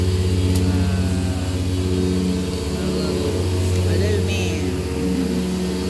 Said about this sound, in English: Oh, sorry about that lawnmower thing.